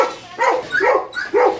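Pet dogs, including a Cane Corso, a German Shepherd and a Great Dane, let out three sharp, close barks in quick succession with brief gaps between them.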